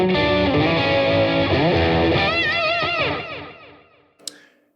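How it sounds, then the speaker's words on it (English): Electric guitar through a Fender Champion 100XL amp with reverb and delay plays sustained chords and bending notes that ring out, then fade into echoing tails before a last sharp pluck. "I'm going to hit the effects on my foot switch. And this is reverb and delay."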